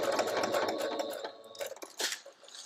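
A sewing machine stitches a shaker pouch with a rapid, steady mechanical whir that breaks into a few short stop-and-start bursts for a backstitch, close and fairly quiet.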